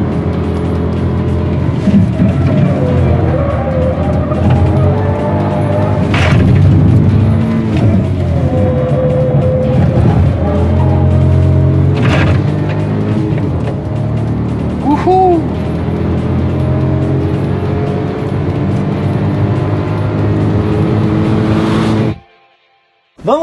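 A Hyundai HB20 Turbo car accelerates hard, with its engine revving up and dropping at each gear shift. The engine noise is loud and close, carries on for about twenty seconds, and then cuts off suddenly.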